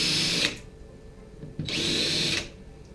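Power drill running a countersink bit into a hole for a nut on a depth gauge ruler, two loud whirring bursts close by, separated by a brief pause.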